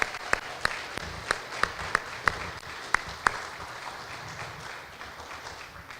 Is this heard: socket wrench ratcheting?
no